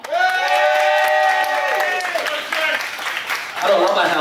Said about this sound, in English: please help me give a big round of applause to the first judge from Kingsman